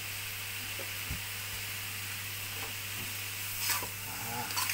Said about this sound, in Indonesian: Nah, aduk lagi merata.